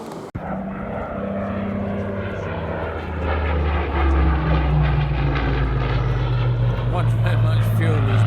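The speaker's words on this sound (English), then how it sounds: "We left the airspace centre to watch the Spitfire display" A Spitfire propeller aircraft flies a display at Duxford on Remembrance Sunday, its loud steady engine drone building and holding throughout, with a voice speaking over it.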